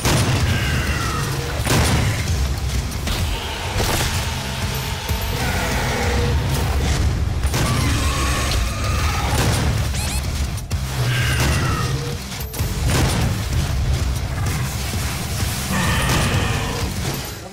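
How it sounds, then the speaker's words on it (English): Super shotgun blasts in a Doom game, loud booming shots with mechanical reload clacks over heavy game music and combat din, repeating every few seconds with no talk. "Super shotgun, John."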